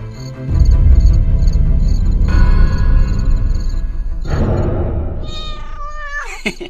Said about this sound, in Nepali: बिरालो रहेछ मालिक बिरालो हजुर मालिक